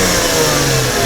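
Brief, steady, close-up roar from a Mercedes W211 2.4 engine being revved, a continuous mid-pitched engine drone with no voices.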